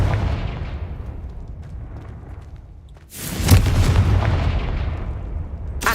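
A Confringo spell in the Hogwarts Legacy video game bursts with a sudden loud blast, followed by a rumbling, crackling explosion that sustains and slowly fades.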